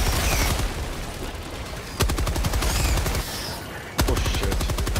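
Sustained bursts of rapid automatic machine gun fire from a co-op shooter video game, with repeated loud volleys and sharp onsets around two-second intervals, dense and close with no talk.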